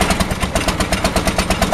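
Car engine turning over and running rough on a cold start after a new heater and fuel pump were fitted, a loud, fast, rhythmic mechanical chugging close by.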